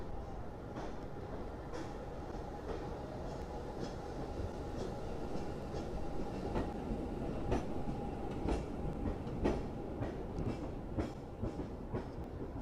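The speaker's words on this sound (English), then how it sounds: "The tram's coming." Rail wheels rumble and clack in a steady rhythm as a tram rolls along the tracks, a continuous grinding roar with regular clicks.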